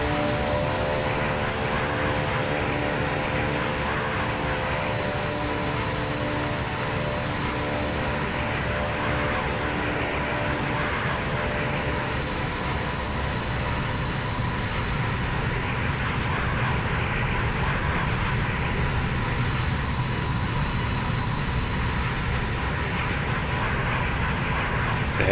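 Steady jet engine drone of a JAR Design Airbus A320 in flight in X-Plane 11, climbing past 10,000 feet, a constant broadband cabin hum with faint tonal whine, under someone talking.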